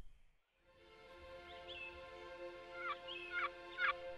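Wild turkey gobbling outdoors at a spring turkey camp, a few rattling gobble bursts rising over steady background birdsong, moderately distant and clear with no talk.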